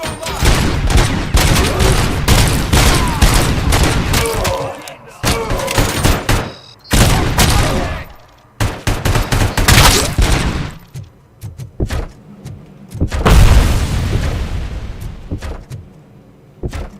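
Dense bursts of rapid gunfire in the game Robocop Rogue City, loud and close, with repeated volleys and short pauses, a sharp blast-like swell near the end, and faint voices under the shooting.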